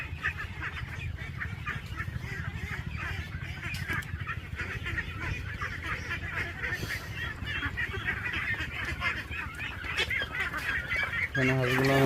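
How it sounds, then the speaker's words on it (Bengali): A large flock of farm ducks feeds from bowls of water on a dry field, their dense, overlapping nasal quacks and honks carrying on nonstop nearby, with a louder burst near the end. "এখানে হাঁসগুলো অনেক সুন্দর খাইতেছে বলের ভিতরে পানি দিয়ে"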